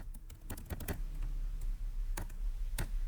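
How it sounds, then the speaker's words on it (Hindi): Keys clatter on a computer keyboard as CSS code is typed, a quick irregular run of close, crisp clicks with short pauses between bursts and no talking. "अब यहाँ पे हम अपना CSS कोड टाइप करेंगे।"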